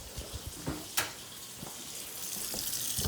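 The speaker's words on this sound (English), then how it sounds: "you can turn off your water" Tap water runs into a kitchen sink while ramen is being made, a steady hiss with occasional splashes and clinks, close and continuous without talk.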